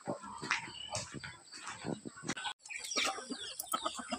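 Chickens cluck and squawk close by in an early-morning rural yard, with overlapping calls and insects chirping steadily in the background.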